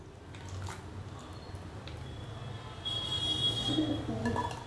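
Sliced raw banana being rinsed in turmeric water, with soft close splashing and dripping that grows a little busier toward the end, no talking.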